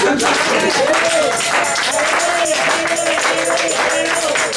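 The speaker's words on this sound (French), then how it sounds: "Alors nous applaudissons pour lui." A church congregation at an evangelical Sunday service claps in a dense, sustained burst that fills the room for several seconds, with sung or chanted voices carrying through the applause.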